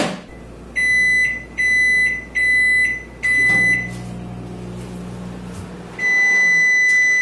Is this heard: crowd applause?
no